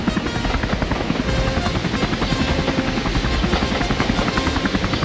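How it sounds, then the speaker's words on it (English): A helicopter's rotor thrums loudly and steadily for the whole stretch, a dense pulsing roar with no voices, as it passes overhead near a harbor. "Noisiest of all, though, was a helicopter."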